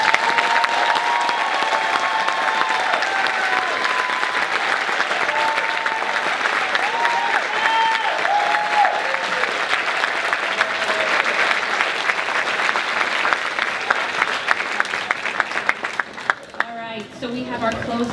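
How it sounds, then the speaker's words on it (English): An audience at a nursing pinning ceremony breaks into sustained, dense applause that holds steady for many seconds, then thins out as a voice begins near the end. "Another round of applause for"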